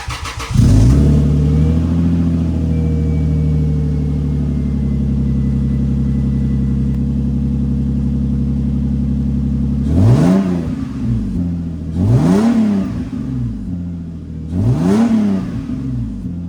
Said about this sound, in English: this is gonna be a cold start and then a few revs once we get it warmed up